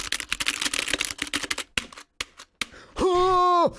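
A computer keyboard clatters with rapid irregular keystrokes, then a few isolated taps, close and fairly loud, followed by a brief sustained tonal sound at the end.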